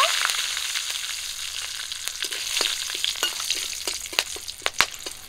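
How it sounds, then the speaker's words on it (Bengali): Bay leaf, cinnamon, cardamom and cloves sizzle in hot oil for a village-style duck curry, a steady close crackle with sharp spits and pops growing louder toward the end. "গরম তেলে দিয়ে দিচ্ছি তেজপাতা, দারচিনি, এলাচ, লবঙ্গ"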